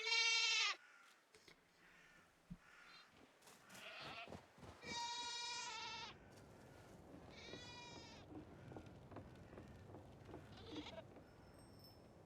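Goat bleats from the video game REKA, several distinct nasal cries spread across the scene, loud at first then quieter, with soft game ambience and clicks between them and no talking.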